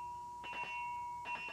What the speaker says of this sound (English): I wanted to buy this bell for Bessie McCow.